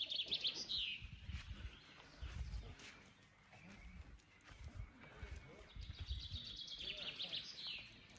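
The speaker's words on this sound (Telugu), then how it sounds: "ఈ బర్డ్స్ సౌండ్స్, ఇది ఫారెస్ట్." Small birds chirp and tweet intermittently in a quiet forest beside a Hindu temple in South Wales, light calls scattered over soft low rustling and distant murmurs.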